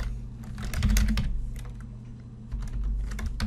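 Fingers typing on a computer keyboard to enter on-screen text, a quick run of close, crisp key clicks with slight pauses, over a low background hum and no talking.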